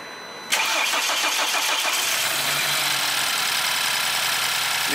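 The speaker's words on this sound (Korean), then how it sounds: "자, 시동 걸어봐." A BMW F30 320i with the N20 engine cranks briefly, then catches and settles into a steady, close idle, with no talking over it.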